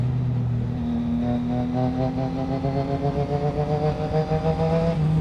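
Motorcycle engine on twisty roads, its harmonic drone rising and falling steadily through gear changes, loud and close throughout with no talking.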